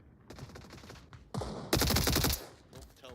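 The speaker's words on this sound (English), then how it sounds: "More shots getting out. They are all firing from really long range." Bursts of rapid automatic gunfire and single shots ring out from a distance in the VR shooter game Onward during a competitive tournament match, uneven volleys that swell and fade.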